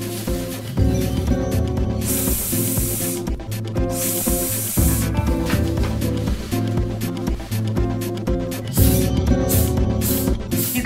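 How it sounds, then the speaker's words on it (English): A breath-powered pottery glaze sprayer spraying onto paper, a loud continuous hiss in long bursts with brief pauses between breaths, close up and alone. "I'm going to try this just on some paper first and see how much breath I need to make a spray"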